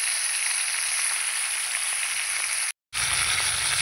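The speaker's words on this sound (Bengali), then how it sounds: "মাথা দুটো আগে ভেজে নেব।" Fish heads sizzle in hot oil in a pan for a Bengali bhola fish curry, a loud, steady hiss with a brief dropout near the end, no voices.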